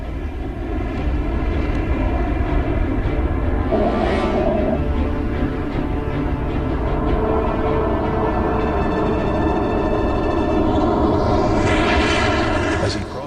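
A U-2 spy plane takes off from a secret air base at Peshawar, Pakistan, its engine a loud, steady roar that swells and shifts in pitch throughout with no break.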